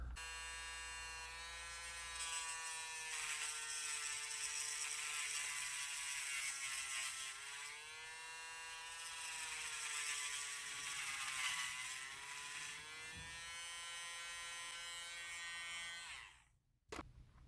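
Power tool gouging out a plastic model part for a Miranda/Hornet refit, a steady high whine running close and continuous with slight pitch dips, then stopping abruptly near the end.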